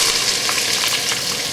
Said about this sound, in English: We'll just saute these until the vegetables are tender.